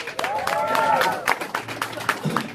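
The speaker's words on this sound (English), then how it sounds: "one more round of applause for yourself with that." Audience applause at an art exhibition in London, a steady crowd clapping that builds and holds for a few seconds, with scattered louder claps and some voices mixed in.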